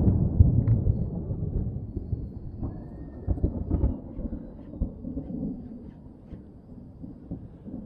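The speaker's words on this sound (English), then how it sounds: "This storm's rolling in fast." Low, rumbling thunder rolls on and off in deep waves, heavy and fairly close, with no voices.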